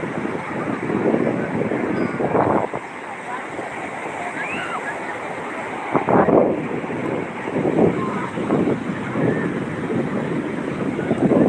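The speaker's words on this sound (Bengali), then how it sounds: "সমুদ্রের ঢেউ আপনারা শুনতে পাচ্ছেন" Sea waves roll and break at Puri beach in the morning as steady wind buffets the microphone, a continuous loud roar with periodic surges of surf.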